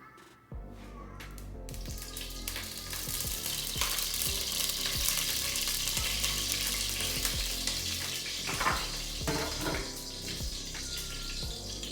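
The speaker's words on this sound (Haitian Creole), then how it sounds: "Pendant que je mets l'huile là, je vais mettre viande noire." Beef for braised beef with potatoes fries in hot oil in a pot, a loud, dense sizzle that starts suddenly and roars steadily for about eleven seconds, close to the listener and without talk.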